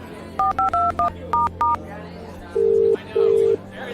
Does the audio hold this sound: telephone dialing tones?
yes